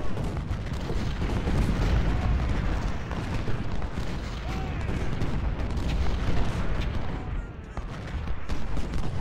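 Cannon artillery fire in the Civil War strategy game Ultimate General: Civil War, a dense rolling barrage of booming shots and rumbling blasts continuing without pause.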